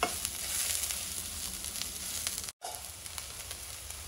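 Soya chunks (meal maker) fry and turn reddish in a pan, with a continuous close crackling sizzle broken by a brief moment of silence midway.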